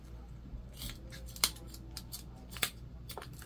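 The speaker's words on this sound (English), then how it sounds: "So we're cutting, and especially here at the bottom, we don't want to go over our zipper tape" Sewing scissors snip through fabric near zipper tape, giving a few crisp, close cuts with two sharp, distinct snips standing out against a quiet background.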